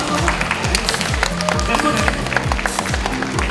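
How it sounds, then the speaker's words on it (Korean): A small group claps and cheers in an indoor room during a comedy-related gift moment, with scattered applause over a thumping rhythmic background and some voices. "박수 받아라."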